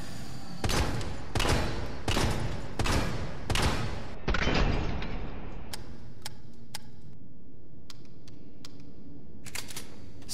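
A fully upgraded M3 shotgun fires in Resident Evil 3 Remake, five evenly spaced loud blasts in quick succession, followed by a quieter stretch of sparse clicks and ticks.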